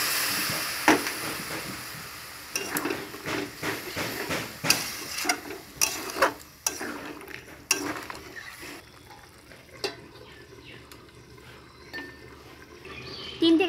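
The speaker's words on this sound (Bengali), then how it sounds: "জল দিয়ে দিচ্ছি।" Water is poured into a hot pan of cooking jackfruit, sizzling and stirring with bursts of splashing and scraping clatter, close, settling to a quieter simmer.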